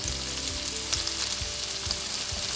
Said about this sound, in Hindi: अब मीडियम पे फ्लेम पे आपने इसको प्याज़ों को लाइट ब्राउन करना है